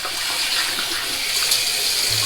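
Tap water runs steadily and fairly loud throughout, rinsing shaving soap from a Derby shaving stick off during a wet shave, a continuous broadband splashing flow with no talking.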